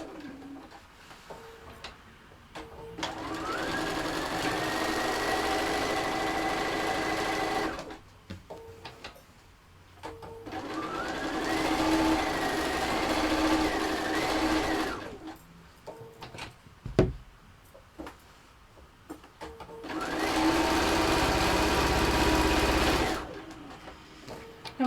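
A sewing machine stitches fabric with an edge foot in three runs of steady, close whirring, each winding up and then stopping, with quiet handling noises between.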